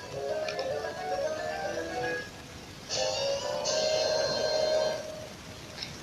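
A bright, chiming electronic jingle of short melodic tones, played twice over a soft hiss, the sword pickup fanfare from The Legend of Zelda.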